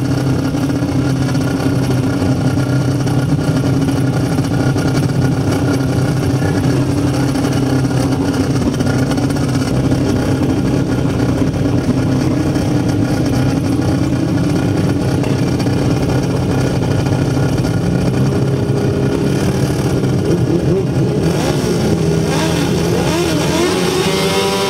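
Sidecar outfits line up for a grasstrack heat, several engines idling and revving together in a loud, continuous blare close by, with pitch shifts near the end as throttles rise.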